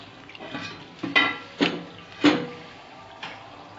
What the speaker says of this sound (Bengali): 10 মিনিট হয়ে গেছে, এবার আমি ঢাকনাটা খুলে দেখবো।